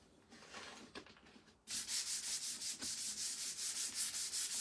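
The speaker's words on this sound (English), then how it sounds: "gently sand our pink cloud rectangle here" Sandpaper rubbed briskly over a small painted wooden rectangle for a spring signpost, starting with a softer, quieter pass before settling into steady, close, rhythmic back-and-forth strokes of even loudness.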